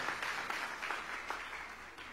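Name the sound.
audience applause for the men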